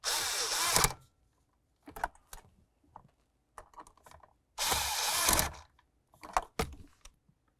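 Blower motor mounting bolts on a 2004–2006 Scion xB being snugged with a power tool, two loud whirring bursts separated by clicks and rattles of the tool and parts, close up with no talking.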